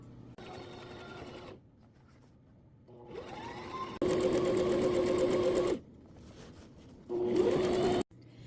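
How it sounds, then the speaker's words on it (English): Sewing machine running in three bursts while zigzag-stitching across the bottom of a pant-leg hem, a steady whirring motor hum with fast needle rattle, close and loud, separated by short pauses. "we're going to take it over to the sewing machine and we're going to do a zigzag"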